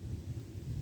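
Low rumble of thunder during a thunderstorm with possible tornado nearby, a steady deep roll that fills the whole moment, moderately loud with faint rain and wind texture and no voices.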